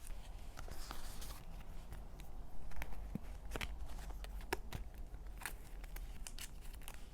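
Scissors snip around name tag stickers at a desk, a string of sharp, close cuts with rustling paper between them, quiet and without talk.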